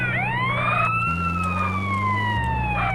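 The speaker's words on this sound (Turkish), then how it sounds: "Şöyle ben bir de sireni açayım." Ambulance siren in GTA San Andreas during a paramedic mission, a loud continuous wailing tone rising and falling steadily over engine hum, close and unbroken with no talk.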